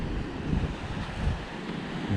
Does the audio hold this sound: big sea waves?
yes